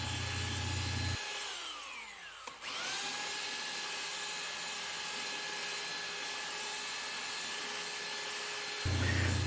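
A power sander smooths the face of rough sawn wooden boards, a steady high whine that winds down briefly before spinning back up and running on continuously at close range, loud and alone.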